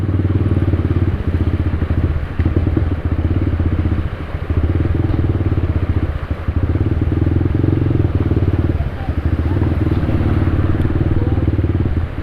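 Motorcycle engine chugging steadily up close while riding through saltwater flood water in Hagonoy, Bulacan, with low rumbling and some splashing clatter and no talk.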